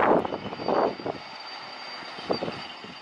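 A sugar cane railway locomotive of the PG Kedawung mill, hauling empty cane wagons, passes a level crossing; a low rumble with some clanking fades from near to farther, and a steady high whine sits underneath.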